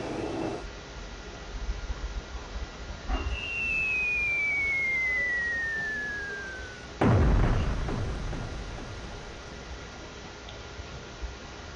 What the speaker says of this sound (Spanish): Dentro había fuegos artificiales.